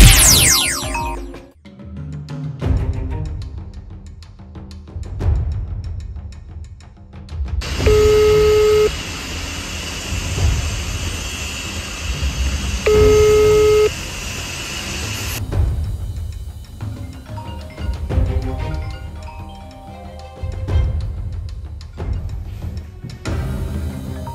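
Beeping telephone call tones from an unanswered call, with two clear steady pitched tone bursts rising over a loud noisy background of rumble and clatter that runs the whole stretch.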